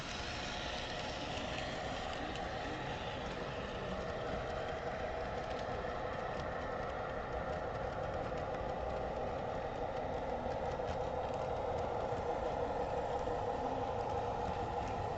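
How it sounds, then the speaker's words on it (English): A model train locomotive running on a loft layout, giving a steady, continuous mechanical whir and rolling hum at moderate level with no break throughout. "Oh, what locomotive is that, Lost Souls?"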